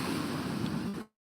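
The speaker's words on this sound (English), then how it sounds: "the waves still picked up." Wind-driven waves on Lake Michigan wash against the shore in a steady, close, rushing roar with a faint breeze, holding even for about a second before cutting off abruptly.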